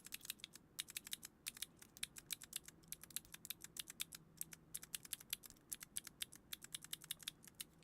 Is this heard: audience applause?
no